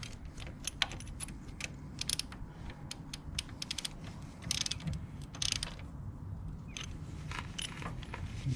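A hand ratchet tightens valve cover bolts on a Honda Ruckus scooter, giving quick clusters of sharp clicking pawl strokes with short pauses between, close and fairly quiet, with no talk.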